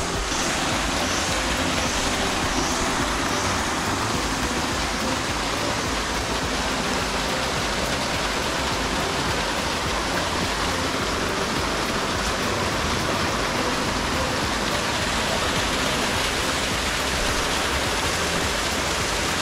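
A waterfall in Khao Lak roars as a constant, dense rush of falling water, steady and loud throughout with no voices.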